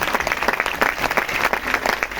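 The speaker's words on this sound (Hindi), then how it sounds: "जोरदार ताली होना चाहिए" Vigorous applause from a gathered audience at a speaking event, steady, dense clapping filling the whole moment at close range.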